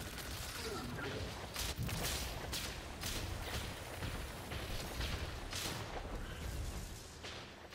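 Dense, continuous gunfire from the video game Destiny, a steady wash of overlapping shots and bursts filling nearly eight seconds at an even, loud level with no clear pauses.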